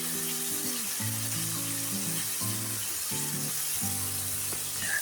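Tomato and spice paste fries and is stirred in a pan, a soft continuous sizzle with occasional scraping; faint background music plays throughout.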